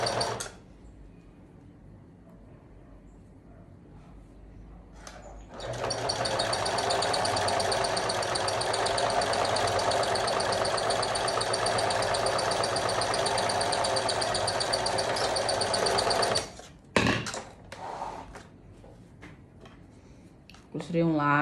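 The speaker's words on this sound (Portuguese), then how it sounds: "Vou colocar frente com frente e vou costurar aqui" A sewing machine runs in one long steady burst of several seconds, stitching two fabric pieces placed right sides together for a clothing set, with quieter handling before it and brief sounds after it stops.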